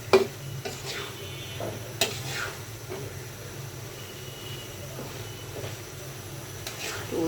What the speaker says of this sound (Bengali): উল্টাইয়ে পাল্টাইয়ে নাড়াই দিচ্ছি।